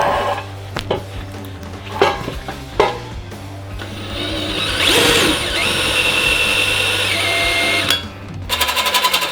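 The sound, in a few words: cordless drill running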